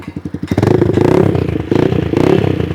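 A small engine on a toy TMX tricycle sputters in quick pulses, then revs into a loud, buzzy, rattling drone with a thin, plasticky edge, close by.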